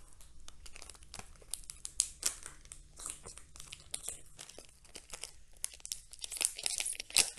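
Plastic packets of IVE magazine merch crinkle and tear as they are opened, with dense, irregular rustling and sharp crackles close by throughout.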